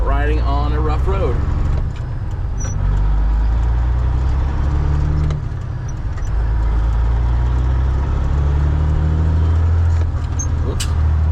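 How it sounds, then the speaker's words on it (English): A Freightliner FLD120 truck on a test drive pulls from rough road onto smooth pavement, its diesel engine droning loud and close in the cab with a deep steady rumble, rattles and shifts in pitch, while someone talks over it. "we're on our test drive, about to pull on the smooth road. Pulling off of the rough road."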